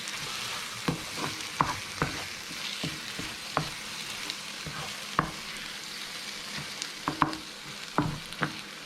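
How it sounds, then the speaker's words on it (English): Mushroom duxelles sizzles gently in a frying pan while a utensil stirs it, giving soft scraping clicks at irregular intervals over a steady, faint frying hiss. "I'll stir that through and just let it amalgamate with the mushroom while it's cooling down in that pan."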